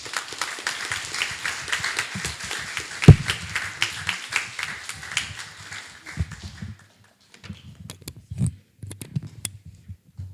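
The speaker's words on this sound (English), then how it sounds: "keep the applause going" Audience applause after a poetry reading at the Kerouac Poetry Contest, a room of clapping hands that rises, spikes with one sharp clap, then thins to a few scattered claps.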